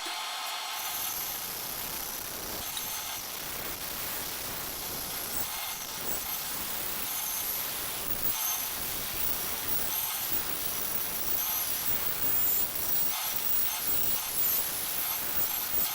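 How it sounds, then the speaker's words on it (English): A bandsaw cuts a curved line through skateboard deck wood, a steady loud rasping whine that runs without pause, with brief dips where the blade eases in the cut. "I'm going to take it over to the bandsaw and cut the majority of this material out."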